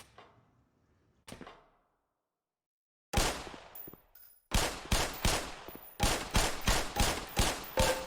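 Pistol shots at shooting-range targets in the video game Black Mesa: two faint early pops, then a loud, fast string of sharp, evenly spaced shots with little pause between them.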